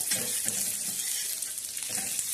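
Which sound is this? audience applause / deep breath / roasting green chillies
roasting green chillies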